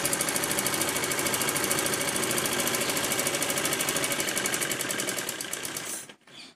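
A sewing machine stitches cloth for men's shorts in one long, steady, rapid whirring run at close range, then slows and stops near the end, with no voices.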